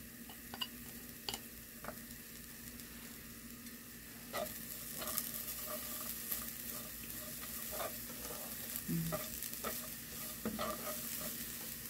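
Dried anchovies with spring onion stir-frying in a pan: a steady soft sizzle runs throughout, punctuated by scattered scrapes and clinks of stirring.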